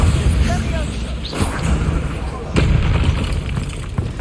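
Bombarda spell blasts in Hogwarts Legacy land as booming explosions, one near the middle and another sharper hit later, over a rumbling game background with a voice speaking.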